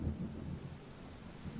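Thunder rumbles low and distant during a storm in a Wolverine motion comic, a soft continuous roll with a faint rain-like hiss, quiet and alone.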